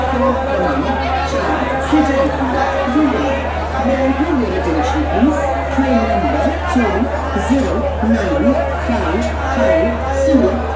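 A dense crowd of passengers mills about on the platform at Surat railway station, a continuous loud babble of overlapping voices and chatter with occasional calls.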